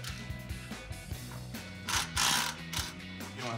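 A ratchet wrench loosens exhaust bolts on a Mustang GT in a rapid run of close mechanical clicks, with a few louder scraping strokes partway through.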